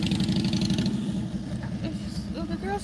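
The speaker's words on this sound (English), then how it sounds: "The girls just be on these motorcycles making all this noise." Motorcycle engines rumble steadily at a low, droning pitch, running continuously beneath a voice talking over them.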